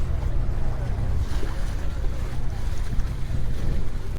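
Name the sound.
small boat travelling on sea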